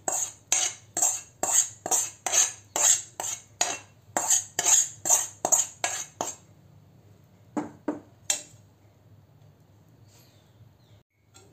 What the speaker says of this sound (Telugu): ఈ ఆయిల్ మిశ్రమాన్ని నేను ఇందులో వేసి కలిపేస్తున్నాను.